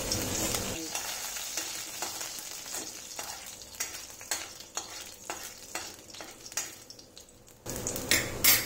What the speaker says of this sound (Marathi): इथे मी कढईमध्ये तेल गरम करून घेतलं आहे आणि त्यात आपण टाकूया लसूण